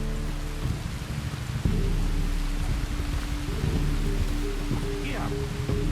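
Steady rain falls in a Red Dead Redemption 2 game scene, a constant hiss of drops with low rumbling beneath, heard alongside soft background music.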